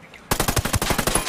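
Automatic gunfire in the Ghost Recon Wildlands video game, a sudden rapid burst of loud shots in steady rhythm that starts abruptly and runs to the end.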